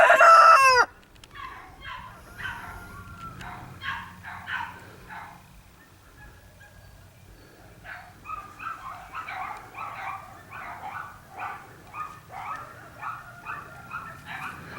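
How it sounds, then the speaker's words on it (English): Neighborhood dogs bark in repeated bursts at a moderate distance, following a loud rooster crow at the very start, heard around a backyard chicken coop. "as you can hear, we're a neighborhood full of dogs."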